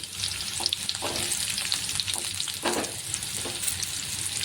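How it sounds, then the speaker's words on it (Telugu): Bitter gourd pieces frying in a little oil in a pan, a dense, even sizzle with a few soft stirring scrapes, close and steady throughout with no voices. "కాకరకాయలన్నీ ఇలా ఫ్రై చేసుకోవాలి"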